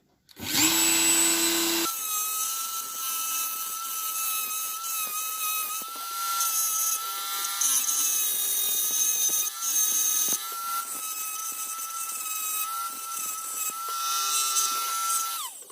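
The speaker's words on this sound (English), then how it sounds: "Switch to a little grindy wheel just to tidy up those edges." A small rotary grinding wheel tidies the cut edges of an FTX Outback Fury RC car chassis, whining at a high steady pitch with slight dips as it bears on the part, close and continuous.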